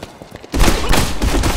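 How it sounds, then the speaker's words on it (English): Rapid gunfire bursts in Medal of Honor, a Colt 45 pistol amid the fight, starting abruptly after a few faint thumps and continuing as dense, loud, overlapping shots. "Getting low on ammo, so I'm switching to the Colt 45"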